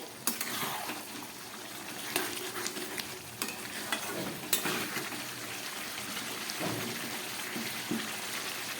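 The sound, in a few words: mutton curry being stirred and fried in a pan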